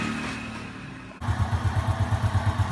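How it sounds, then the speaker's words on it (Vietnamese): A Honda Wave Alpha motorcycle engine fitted with a 52 mm bore cylinder starts after a brief mechanical noise and settles into a loud, close, rhythmic idle with a steady pulsing beat. "Đó xong rồi mình nổ máy sẽ quay cho các bạn xem ha."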